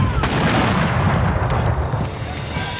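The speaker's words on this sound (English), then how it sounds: "The Battle of Palo Alto began with the roar of cannon fire and quickly turned into an artillery duel." Cannon fire rolls through an artillery duel at the Battle of Palo Alto in the US-Mexican War, with dense overlapping booms and rumbling blasts forming a loud, continuous barrage.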